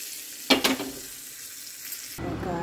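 Hot tempering (popu) of spices in oil hits a pot of rasam with two sharp sizzling bursts that quickly fade to a soft hiss, followed by a louder watery rush near the end.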